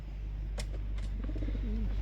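Young pigeons kept for sale coo softly nearby, with a few low cooing calls over a faint steady background hum.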